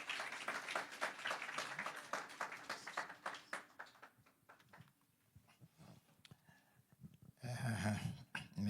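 Congregation at a ministry inauguration applauding the reverend, a dense crowd clatter of claps that fades to scattered hand noise, then a brief louder burst near the end.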